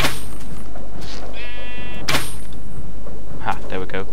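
Sheep in Minecraft bleat when struck, a couple of short nasal game bleats standing out over a steady background hum, with brief clicky game sounds around them.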